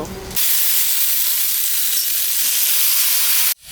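A fish head dropped into hot oil in a pan with taro greens sets off a sudden loud, steady sizzle and hiss, holding for about three seconds before stopping abruptly.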